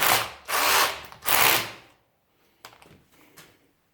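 A cordless hammer drill roars in two long, loud bursts of hammering into concrete, then quieter clattering and handling noises follow.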